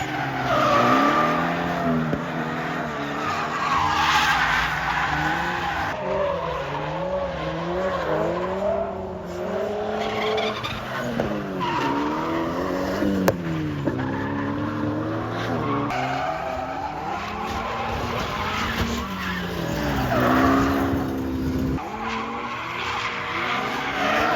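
Loud, continuous tire squeal from a drifting Toyota GT86, rising and falling in long wails over a roaring engine, with no pauses.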